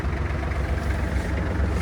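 A Kubota GL-261 mini tractor's diesel engine idles steadily after starting, a loud, close, low rumbling chug with constant vibration and no talk over it.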